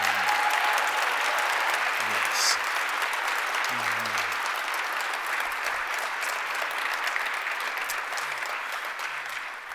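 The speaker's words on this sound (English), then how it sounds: "just give another resounding round of applause for Jim Tovey" A crowd gives a resounding round of applause for Jim Tovey at an acceptance event, dense steady clapping filling the whole stretch and easing slightly toward the end, with a voice briefly heard near the start.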